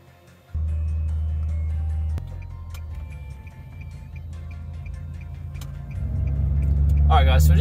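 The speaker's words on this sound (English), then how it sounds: "we're just driving at the moment" Steady low rumble of a car driving on the road, heard from inside the cabin with faint ticking, and a voice talking over it toward the end.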